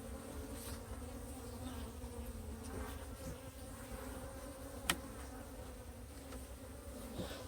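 A swarm of honey bees at an opened hive gives a steady, continuous buzzing drone, fairly quiet and even throughout, with one brief sharp tick partway through.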